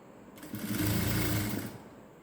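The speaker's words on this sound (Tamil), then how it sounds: "அப்படியே ரவுண்டாக ஸ்டிச் பண்ணிகிட்டே வாங்க" A sewing machine runs in one smooth burst of about a second and a half, a close, steady mechanical whir, as it stitches round the seam of a cigarette-style pant with pockets.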